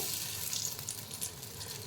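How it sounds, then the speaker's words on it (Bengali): Hot oil sizzles and crackles steadily as fish-roe pakoras fry in a pan and are flipped, with a few soft scraping stirs. "আমি ডিমের পকোড়াগুলো উল্টে দিচ্ছি আস্তে আস্তে।"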